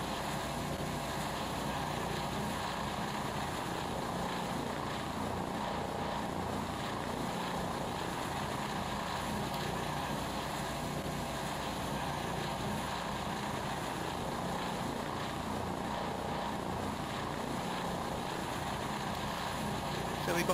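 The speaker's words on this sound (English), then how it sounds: "let's go and have a look at it from this little helicopter" A simulated Eurocopter 135 helicopter flies in Flight Simulator X, producing a steady, unbroken rotor and turbine drone that holds at an even level from start to finish.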